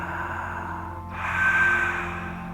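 Ujjayi-style yoga breathing drawn through the nose, a soft throaty hiss in a quiet room that starts faint and swells into a longer, louder rush partway through.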